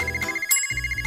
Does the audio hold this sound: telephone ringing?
yes